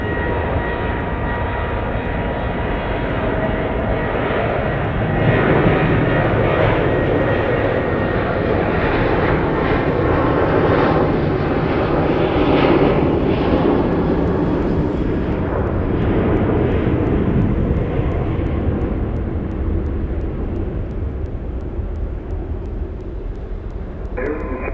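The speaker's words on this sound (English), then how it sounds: "Here departs Lone Star 1 to Chicago Midway." A Lone Star airliner takes off from Dallas Love Field with a loud, sustained roar of jet engines. The roar swells and then slowly fades over about twenty-five seconds with no talking.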